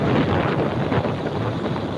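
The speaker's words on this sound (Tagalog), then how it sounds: "mas malakas yung ihip ng hangin" Steady, loud wind buffets the microphone on a motorcycle ride toward Sarimao, Caranan, Pasacao, a dense rushing roar that covers the whole stretch with no talking.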